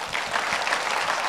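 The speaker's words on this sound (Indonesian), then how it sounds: "Tepuk tangan Tuhan kita." Church congregation bursting into a short, dense round of clapping during a healing sermon, loud and close, without any speech.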